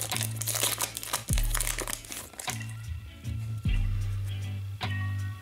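Foil wrapper of a retail hockey card pack crinkling and tearing open up close, a run of sharp crackles and rips with strong low thumps of handling, no voices.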